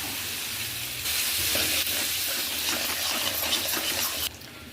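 Raw prawns hit a hot pan with taro leaf paste, and a loud, close sizzle bursts up suddenly, crackling steadily for a few seconds before dropping off abruptly.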